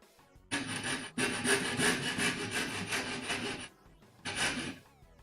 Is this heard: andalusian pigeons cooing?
no